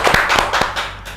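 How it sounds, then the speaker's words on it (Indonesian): A studio audience claps for a guest on a talk show about a presidential debate, a few distinct hand claps close by, in a quick, uneven rhythm that fades toward the end. "Tepuk tangan untuk Mister Puisi."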